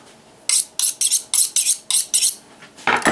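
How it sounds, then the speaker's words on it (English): A boning knife cuts through a tomahawk steak down to the bone, giving about eight crisp, evenly spaced scraping strokes, loud and close, then a short rougher rasp at the end, with no talking. "we're gonna start right here like this, all the way to the bone"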